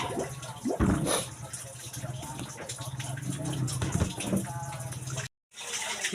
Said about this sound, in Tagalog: Sinsin ang hugas sa plato